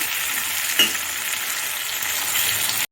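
Tomatoes and onions sauté in a pan for a fish curry, giving a loud, steady, close sizzle with one brief clink of a utensil against the pan partway through.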